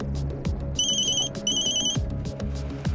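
A telephone rings with two short bursts of trilling electronic tone, loud and near, over a low rumbling background during a dangerous driving test.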